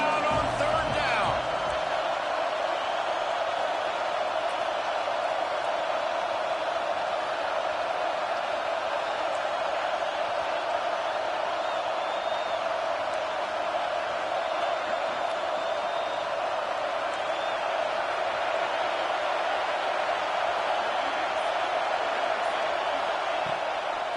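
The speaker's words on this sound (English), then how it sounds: "This crowd unhinged, trying to make sure the Gators don't back down on 3rd down." Steady roar of a stadium crowd at an Ohio State at Florida college football game, fans pushing on third down, a dense continuous din with a commentator talking over it.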